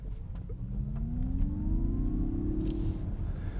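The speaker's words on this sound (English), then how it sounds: "So it's got a sort of slightly combustion engine sound, but slightly not, sort of space age." A Mazda MX-30 electric car emitting its artificial driving sound while rolling over speed humps, a smooth synthetic hum rising in pitch as it gains speed, under steady road and cabin rumble.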